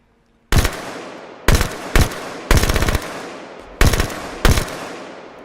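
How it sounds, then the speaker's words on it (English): Halo 5 gunfire in six rapid automatic bursts of varying length, loud and close, each with a short echoing tail off the map, separated by brief quiet gaps. "you should be able to hear the actual gunfire echo with the actual you know, what have you"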